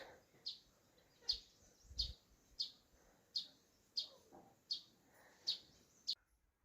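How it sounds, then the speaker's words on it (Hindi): A bird calls near water in a mountain village, with eight evenly spaced sharp chirps roughly every 0.7 seconds, clear and moderately close, with faint background sound. "चिड़िया चिड़िया वो देख रहा है ना, चुपचाप जा रहा है"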